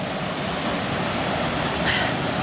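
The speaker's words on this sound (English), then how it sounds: "I just lined that waterfall." A river waterfall in Algonquin Park roars in a steady, loud, close broadband rush of falling water that stays constant throughout.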